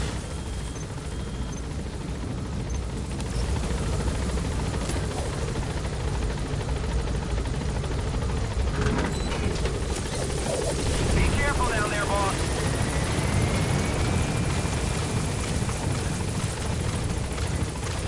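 Helicopter rotor drone from Metal Gear Solid V: The Phantom Pain, a steady loud roar running through the whole stretch, with brief bursts and game effects layered over it.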